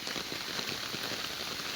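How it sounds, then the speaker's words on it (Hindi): Heavy rain falls steadily near a temple site in Vietnam, a dense, even hiss of drops on surfaces with no pauses and no voices. "फिर से वही भारी बारिश शुरू हो चुकी है"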